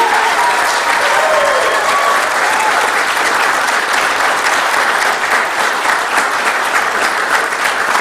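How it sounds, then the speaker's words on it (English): Newly constituted Township of Wilmot municipal council is applauded at its inaugural meeting: a steady, dense round of clapping from a room full of people, loud and sustained throughout. "You can do another round of applause if you want."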